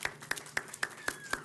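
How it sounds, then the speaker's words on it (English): Audience applause at a city council meeting: six distinct, evenly spaced claps, fairly faint and sparse, with a little background murmur. "Let's give them all a round of applause."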